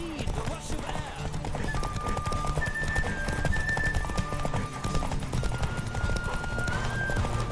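A horse gallops in The Witcher 3 video game, with fast, continuous hoof clip-clops and occasional whinnies under game music, while someone talks over it.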